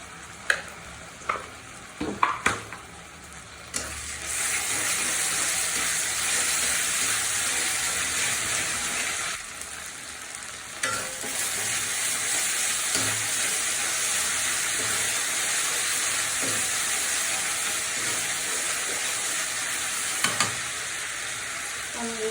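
Garlic, ginger and salt hit hot oil in a pan, a few clinks and stirs giving way to a loud, steady, close sizzle that hisses continuously, briefly dipping before resuming.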